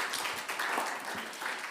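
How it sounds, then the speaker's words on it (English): A round of applause from the audience at a COP28 panel on women entrepreneurs and climate solutions, a soft, steady wash of clapping heard from some distance. "a round of applause for all of you as well"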